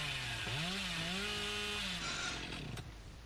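A chainsaw charges up in the game Dead by Daylight, a loud, continuous revving buzz whose pitch swoops up and then holds before breaking into rougher grinding.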